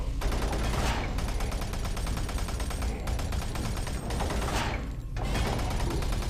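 Gunfire in Doom 3 BFG sounds as a steady, rapid rattle of shots at close range and fairly loud. Two short pauses break the stream before it picks up again, with no talking.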